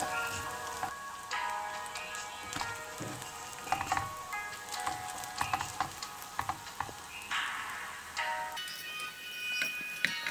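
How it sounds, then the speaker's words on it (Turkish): Slices of egg-dipped bread fry in a pan with a steady, quiet sizzle, sprinkled with small pops and crackles and occasional spatula scrapes close by. "Evet arkadaşlar çevirdik. Şimdi diğer tarafı pişiyor."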